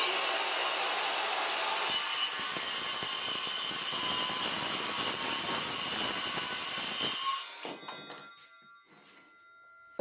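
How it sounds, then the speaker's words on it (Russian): A circular saw whines loudly while cutting across a wooden board guided by a square. The blade roars steadily for several seconds, then spins down and fades out near the end. "включаем нашу циркулярку"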